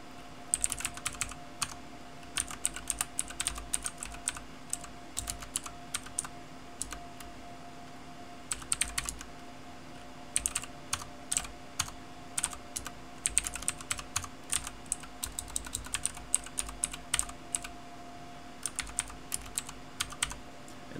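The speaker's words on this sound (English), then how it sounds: "probably just quicker just to type it out." Someone types on a computer keyboard while configuring Netgear network routing, with irregular clusters of crisp close keystrokes over a quiet, steady background hum.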